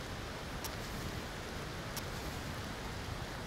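Rain falls in the video game Aloft as a steady, even hiss, soft and unbroken, with a couple of faint ticks and no talking.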